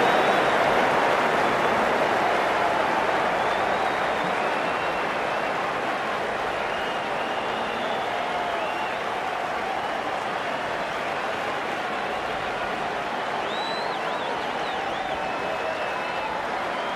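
Cricket crowd at a World Cup match between England and South Africa applauding a boundary, a steady wash of clapping and cheering that holds loud throughout, with a commentator talking over it.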